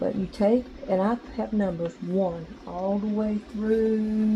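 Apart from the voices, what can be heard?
None of the usual background noises is heard.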